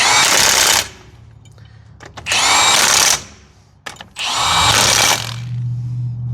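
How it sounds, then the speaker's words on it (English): An impact gun tightens the wheel lug nuts on a Ford Ranger fitted with wire wheels, firing three loud, close bursts of rattling air-tool hammering with short pauses between them. "You got the impact gun?"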